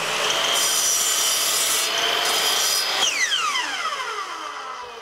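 Wooden floorboards scrape and rub continuously as a loft floor is insulated and boarded out, a dense close rasping with a sharp creak and a falling squeal partway through, no talking.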